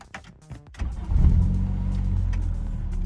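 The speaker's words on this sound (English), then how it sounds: "So as you can hear, the engine is now on." A Toyota push-start engine cranks briefly, then catches and settles into a steady low idle rumble, close by with no talking.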